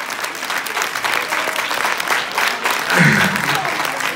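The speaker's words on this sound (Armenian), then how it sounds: "Երիակե բոլորը ծափարում ենք մեր բոլոր երեխաներին, հաղթողներին" Loud audience applause for children and prize winners at a ceremony, steady dense clapping throughout with a voice briefly rising over it near the end.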